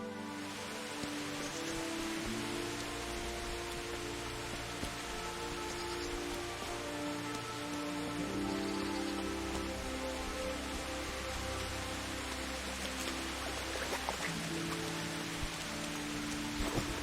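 Steady rain falls throughout in the medieval RPG Kingdom Come: Deliverance, a dense continuous patter over low ambient game music, with no talk.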